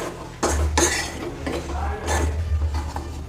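A spoon scrapes and clinks around a pan while Amrutham powder upma is stirred, giving several separate metallic strokes over a low kitchen hum, close and fairly soft.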